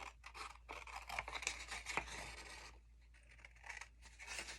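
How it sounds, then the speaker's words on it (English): Scissors cutting a sheet of paper for a card-making craft project, a soft crisp snipping and scraping run of several strokes close by, with a brief quieter pause partway through and no talking. "I'm just going to use my scissors and"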